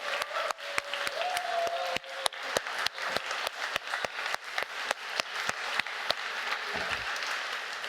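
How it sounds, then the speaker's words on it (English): A university game jam audience at a closing ceremony breaks into steady applause, sharp claps ringing out across a hall for several seconds without any talk. "everyone give a round of applause to yourselves"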